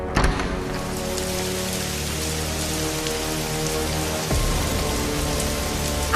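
Rain pours steadily through an open doorway into a living room, making a dense, even hiss of drops on surfaces with a low gusty undertone and a brief louder burst near the end, with no voices.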